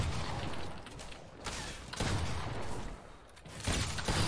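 Dense bursts of Fortnite Battle Royale gunfire crackle in rapid clusters across the whole stretch, loud and close, with a brief lull before the shots pick up again.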